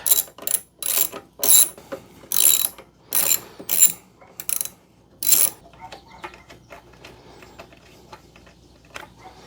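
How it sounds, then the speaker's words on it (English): A ratchet with a 1/4 inch socket backs out the battery cover bolts on a 2014 Harley-Davidson CVO Limited, giving about eight bursts of sharp, close clicking before falling quiet. "So to remove these, it's just a 1/4 inch socket."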